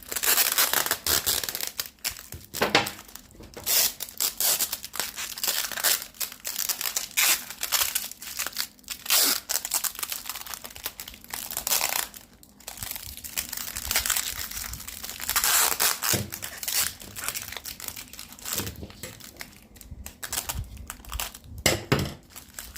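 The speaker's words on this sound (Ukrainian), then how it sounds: "І щоб земля не розсипалася скотчем," Crinkling plastic and sticky tape being pulled and wrapped around a bag of soil holding a lavandin seedling, with repeated sharp rips and rustles, close up and continuous.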